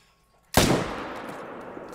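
A gun fires once in a multiplayer video game while hunting a level 8 enemy: one sudden, loud, sharp blast followed by a long reverberant tail that fades slowly, with no talking.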